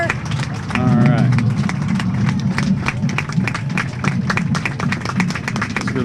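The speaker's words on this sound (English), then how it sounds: "that crowd absolutely clapping and giving honor and recognizing" Crowd at a July 4th parade clapping and applauding as a Pearl Harbor survivor passes, dense sustained applause with someone talking over it throughout.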